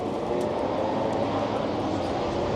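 MotoGP race bikes at a circuit, heard from a distance as a steady broadband roar of engines that holds constant throughout with no voices.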